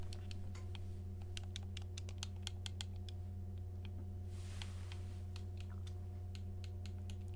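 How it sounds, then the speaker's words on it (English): Computer keyboard and mouse clicking in quick irregular bursts of sharp taps, close but quiet, over a constant low electrical hum. "Sorry you can hear my clicking."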